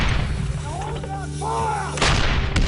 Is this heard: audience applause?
no